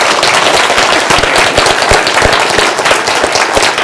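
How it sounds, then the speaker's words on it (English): Loud, close audience applause at an aquarium after a talk on sea monsters, dense sharp claps crackling steadily like a burst of firecrackers for the whole stretch. "How about a round of applause?"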